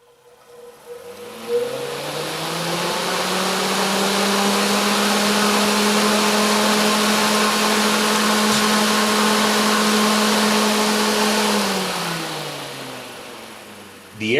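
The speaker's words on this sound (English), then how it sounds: "The airflow from this fan spins this little fan" An electric motor spinning a fan spools up, holds a steady loud whirring hum for about ten seconds with a clear tonal whine, then winds down near the end.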